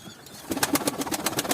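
A flock of pigeons lands to drink, their wings flapping in a rapid, rhythmic burst of close, crisp beats lasting just over a second.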